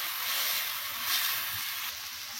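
Ingredients sautéing in a pan for a green mango and fish dish, giving a steady, close sizzling hiss that runs throughout with no talking.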